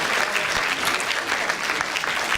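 Audience at a retro gaming expo auction applauding, a dense, steady burst of many hands clapping at close range for a couple of seconds.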